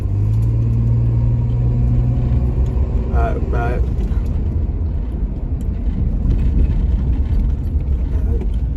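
A big truck's engine rumbles steadily while it is driven, a loud low drone filling the whole stretch as people talk over it inside the cab.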